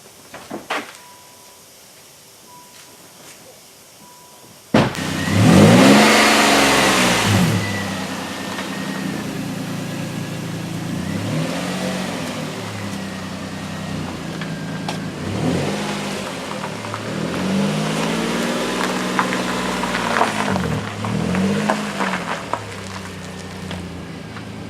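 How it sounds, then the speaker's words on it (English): A Nissan Maxima with a short-throw shifter starts up late at night and drives out of a garage, its engine revving loudly in repeated rising and falling pulls as it moves off, close by and alone. "is actually going to drive her new car out of the garage"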